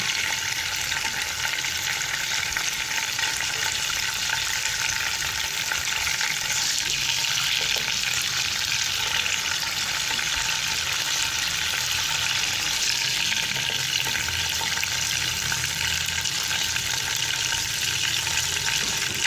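Chicken pieces frying in oil over a medium flame give off a loud, steady, unbroken sizzle that hisses evenly throughout, with no voices.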